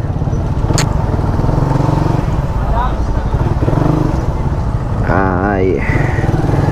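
The carbureted engine of a Raider 150 motorcycle runs with a steady, loud, close putter, while someone talks over it throughout.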